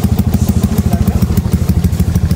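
A Yamaha Crypton R motorcycle engine runs close by and loud, its exhaust throbbing in a fast, steady pulsing rhythm with a rough, clattery edge.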